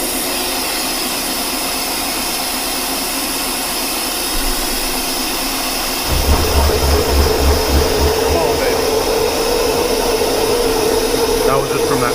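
A machine bores through a Kop Flex steel shaft coupling, a steady loud whirring hum that swells into a heavier, rougher rumble about halfway through.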